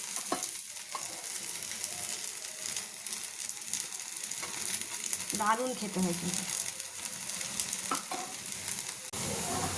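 Vegetable patties with capsicum and carrot fry in a pan of oil, giving a steady close sizzle with a few spatula scrapes and clinks, while a person talks over it.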